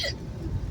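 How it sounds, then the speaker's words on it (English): A single short hiccup from a woman, quiet and close, with faint road noise in the background of a moving car. "Now I have the hiccups."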